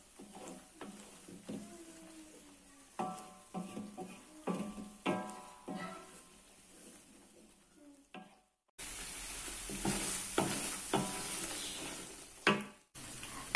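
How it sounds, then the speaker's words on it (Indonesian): Tomato shrimp sambal stirred and scraped in a sizzling frying pan, with rhythmic spatula strokes over a steady hiss of frying; the sizzle swells louder partway through. "Sekarang kita aduk kembali."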